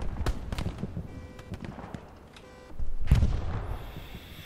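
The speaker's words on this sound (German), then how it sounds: "Da ist wieder ein Panzer reingeballert." A tank fires shells in the WWII shooter Hell Let Loose during a beach defense at Utah, giving heavy booming blasts and sharp reports with a big impact near the end amid battle noise.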